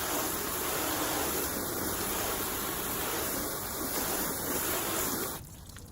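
Water spraying to rinse wax off a car, a loud steady hiss of spray running continuously before cutting off abruptly near the end.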